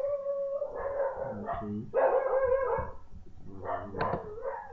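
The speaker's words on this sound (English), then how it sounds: "Sorry, my dog is barking." A pet dog barks, yips and howls in a high, wavering run of calls indoors, fairly close and loud, while a person briefly says a word over it.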